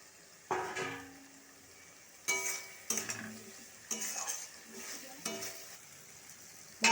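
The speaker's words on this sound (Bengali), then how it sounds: "এবার শুটকি মাছটা দিয়ে ও মশলাটাকে ভালো করে কষাবে" Dried fish and spices fry in a pan with a steady sizzle. Loud metal scrapes and clinks from a stirring utensil come in bursts about once a second, close and clear, and no one speaks.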